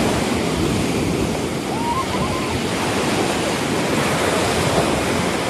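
Steady ocean surf washing onto a clear-water beach at Yoshisami, Shimoda, a broad continuous roar that fills the whole stretch at close range with no break and no voices.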